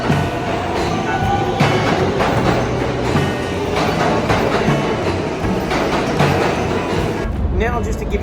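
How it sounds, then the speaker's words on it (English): A New York City subway train rumbles and clatters as it pulls in, a steady loud roar with rhythmic wheel clicks, ending in a high squeal of brakes. "So here comes the train right now."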